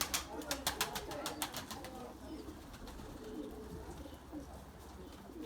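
Erzurum white pigeons coo softly over a low background hum, following a quick run of sharp rhythmic taps at the start, heard at a modest distance.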